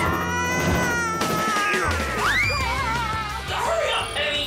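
A cartoon cat meows in several drawn-out, rising and falling cries, close and loud, with some background noise and voices mixed in.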